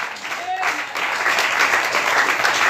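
A church congregation claps and cheers in a dense, continuous wash of applause that stays loud through the short stretch.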